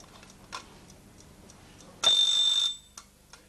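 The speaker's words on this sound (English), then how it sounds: "Now turn the alarm set arbor slowly until the clock alarms." A mechanical alarm clock ticks faintly, then its bell rings in one loud, bright burst of about half a second before the quiet ticking resumes.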